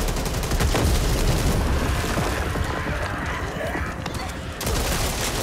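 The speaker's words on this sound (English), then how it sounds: "Hey, hun, watch where you're shooting." Dense, continuous gunfire and crashing impacts in the zombie shooter Back 4 Blood, a loud sustained barrage with booming low rumble throughout.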